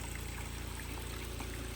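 Water pouring steadily from a newly drilled well about 22 metres deep at a forest house, a continuous near splashing flow with no talk.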